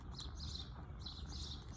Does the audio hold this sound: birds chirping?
yes